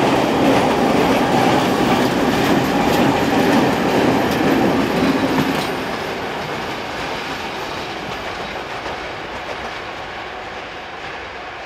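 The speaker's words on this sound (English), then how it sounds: "This is freight train" Freight train in Slovakia hauling cargo past a lineside spot, a loud, steady rumble of rolling wagons and clattering wheels that eases slightly as the train continues by, with no voices.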